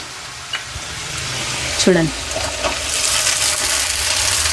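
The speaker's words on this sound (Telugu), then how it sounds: "ఇప్పుడు ఈ స్టేజ్లో సగ్గుబియ్యం వేసుకుందాం మనం" Sago pearls tossed into a hot pan for festival sago khichdi, giving a steady frying hiss with a few stirring scrapes; a brief voice-like sound shows near the middle.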